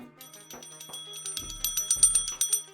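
A small bell dings in a rapid series of bright, close rings, starting sparse and quickening into a dense cluster of strikes with no talking.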